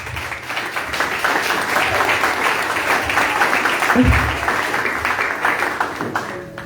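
A church congregation applauds Jesus in sustained, dense clapping that carries on throughout, with a voice faintly audible beneath it.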